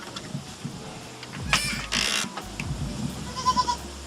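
Goats in a goat pen on an organic farm bleat several times, some near and some farther off, among scattered rustling and faint background noise.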